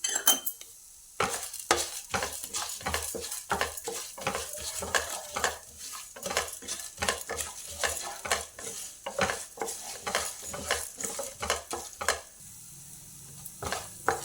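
Coriander seeds, fenugreek, cumin and urad dal fry in a pan under brisk, continuous stirring: a dense run of scraping, clinking strokes over a soft sizzle, close up, easing off briefly near the end.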